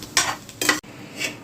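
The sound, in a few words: frying nuts in ghee for bhuna khichuri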